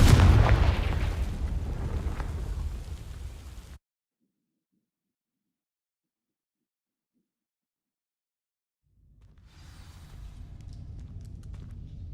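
Confringo fire spell blast in Hogwarts Legacy, a loud booming explosion with a roaring tail that cuts to silence, followed by a quieter crackling rumble.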